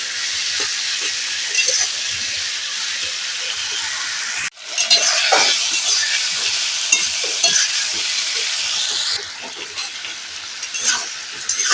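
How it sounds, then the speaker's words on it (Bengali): Spices and potatoes frying in a pan with steady sizzling throughout, broken by the scrape and rattle of stirring, loud and close with no talking. "তাতে মশলাটা আলুটা একসঙ্গে সব ভাজা হবে"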